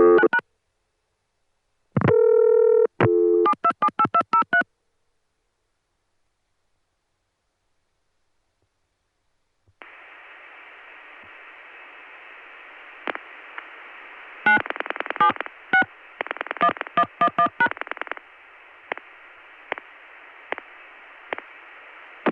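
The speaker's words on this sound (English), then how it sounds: "the trunk has been such that it can't hear my touchstones" Bursts of touch-tone dialing on a 1980 CCSA trunk line: a few quick tone clusters, a silent gap, then a steady hiss of line noise broken by further rapid dialing bursts and isolated clicks.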